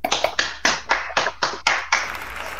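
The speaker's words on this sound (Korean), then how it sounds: "박수 주세요." A handful of people at a rally clap in short, separate bursts, about eight quick rounds, close and fairly loud, fading into a light patter at the end.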